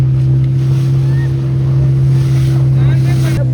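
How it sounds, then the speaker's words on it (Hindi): A banana boat ride towed by a motorboat off Anjuna Beach, Goa, gives a steady, loud engine drone with wind and waves washing over it throughout. "ये बनाना राइड है, बड़ी फन राइड है।"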